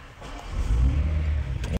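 A BMW X6 starts up, with a brief crank followed by a deep, full engine rumble that settles into a steady idle before cutting off abruptly.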